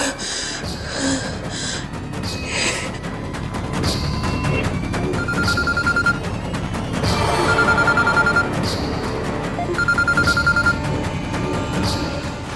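A mobile phone rings with an incoming call in a Hindi TV drama scene, its electronic ringtone sounding in three short repeated bursts over a steady bed of background music.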